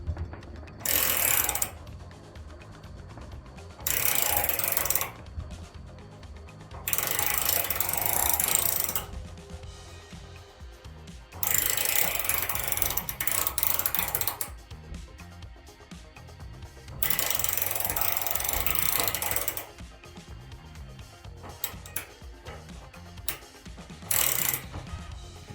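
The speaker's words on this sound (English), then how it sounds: "isn't this lovely listening to ratchets working?" Craftsman V-Series metric and SAE ratcheting wrench clicking in repeated bursts of rapid, crisp ratchet ticks separated by short pauses, close up and fairly loud with no talking.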